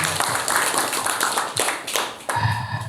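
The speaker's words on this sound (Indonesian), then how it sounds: "Tepuk tangan untuk kita semuanya." Group clapping at an Indonesian leadership training session, uneven bursts of hands with short pauses between, close and fairly loud, with voices mixed in.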